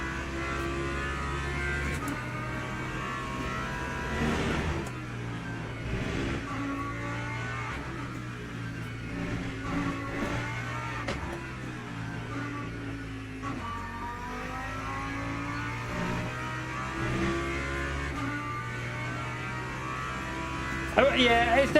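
Race car in Le Mans Ultimate on a wet Silverstone track, an engine drone that rises and falls steadily through gear changes and corners, buzzing and moderately loud with a faint voice underneath.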